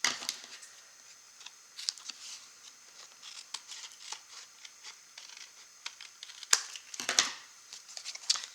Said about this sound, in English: now we will trim these off.